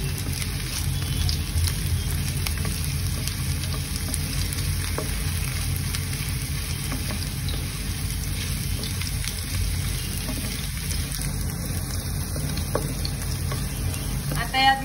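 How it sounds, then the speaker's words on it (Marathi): Potatoes fry in a pan for Khandeshi kanda poha, giving a steady, close sizzle with occasional stirring scrapes, continuous and moderately quiet with no talking. "बटाट्यांना 1 ते 2 मिनिटांपर्यंत मी चांगलं फ्राय करून घेते।"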